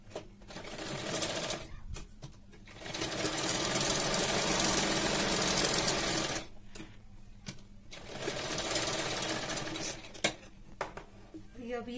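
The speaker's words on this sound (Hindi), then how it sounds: "अपन इसके पीछे की साइड पूरे में सिलाई करेंगे।" A sewing machine stitching along the back side of a blouse runs in bursts, loud whirring stretches broken by short pauses and light clicks, with occasional handling noises.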